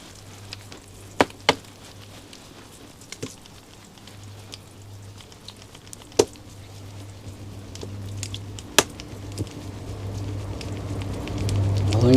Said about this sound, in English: Some water, just give them a bit of a watering in.